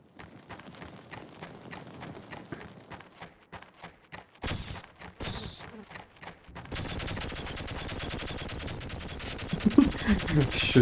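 Gunfire from a first-person shooter as creatures are fought in Half-Life, a run of sharp, evenly spaced shots followed by denser rapid firing and effects, with a player talking over parts of it.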